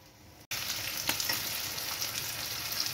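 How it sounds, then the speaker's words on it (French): Veal escalopes sizzle in a hot frying pan, a steady loud frying hiss that starts abruptly after a brief quiet moment and continues without talk. "mettre nos escalopes à cuire. Et donc là, il n'y a plus qu'à faire colorer d'un côté"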